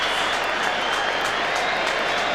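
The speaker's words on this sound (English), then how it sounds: "that big cheer you may hear, that's Mark Porter coming around the boundary line behind the goals" A stadium crowd at a 2001 AFL football match between Carlton and Geelong gives a sustained, dense roar of cheering and applause, broad and steady throughout with no distinct voices.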